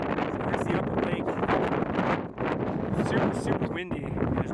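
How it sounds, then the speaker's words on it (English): Strong gusting wind roars across an open microphone outdoors at a mountain lake with whitecaps, loud and continuous with brief lulls, near water. "Super windy. There's whitecaps on the water."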